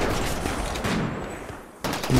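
Dense gunfire from a firefight in the colony-survival game Rimworld, steady and loud throughout with a brief dip before it surges again, no voices.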